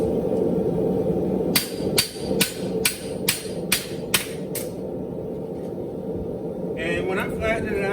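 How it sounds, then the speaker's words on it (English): A hammer strikes a horseshoe at a forge to flatten it, about eight sharp, ringing blows in an even rhythm, close and loud, over a steady background hum. "I want to start at the heel right here, and it's going to be striking blows"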